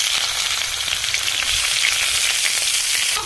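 Chopped onion sizzling in hot mustard-spiced oil in a pan, a loud, continuous crackling fry heard close up with no talk.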